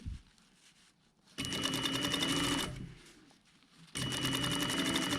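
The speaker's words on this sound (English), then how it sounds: "we're just stitching small areas to secure so that we can work with rather than the whole thing" A sewing machine stitches a jacket's body lining in two short, steady bursts, its rapid mechanical whir close and clear, with a quiet pause between the runs.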